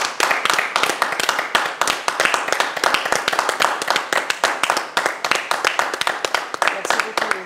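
Rhythmic unison clapping from an audience in tribute, sharp evenly spaced claps in a fast steady beat, loud and near, with no voices.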